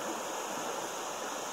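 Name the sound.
high running creek water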